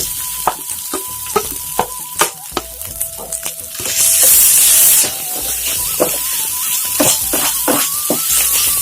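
Grated coconut roasts in oil in a pan for a traditional sadya koottucurry, with loud, close sizzling, a burst of hiss, and repeated sharp scrapes of stirring at an uneven rhythm, no talk.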